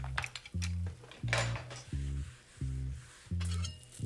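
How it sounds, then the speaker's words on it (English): Potatoes coated in an egg-yolk mixture are stirred in a pan with a metal utensil: about six rhythmic scraping clanks against the pan, close and fairly loud, with no talking. "give them a quick stir so they all get coated"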